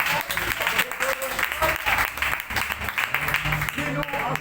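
Church congregation applauding during a worship service, steady enthusiastic clapping from many hands, close and continuous, with voices and singing mixed faintly underneath.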